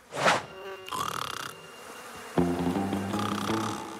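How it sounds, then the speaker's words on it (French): Flies buzzing in a cartoon, in several short loud droning bursts, with a brief gap between them. "Mais ce sont juste des mouches."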